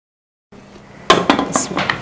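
A lid goes onto a cooking pot of beef biryani, first a faint scrape and then several sharp metallic clanks and rattles of metal on metal at close range.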